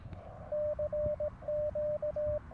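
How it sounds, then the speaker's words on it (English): Morse code CQ call keyed on an amateur radio transceiver on 3.560 MHz, heard as a steady mid-pitched sidetone in a rhythm of long and short beeps, clear and close over a faint hiss. "So I'm going to call CQ and see if I can get an answer."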